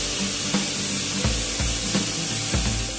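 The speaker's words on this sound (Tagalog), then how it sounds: "Sprayan ko siya ng clear coat" Urethane clear coat is sprayed over a car key given a carbon-fiber finish, a loud, close, steady hiss broken by short sputtering bursts, with no voices.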